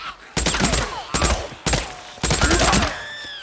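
Gunfire from the open-world zombie game Days Gone during a horde fight, four loud broadband bursts spaced about a second apart, each with a short ringing tail, close and dominant over low background noise.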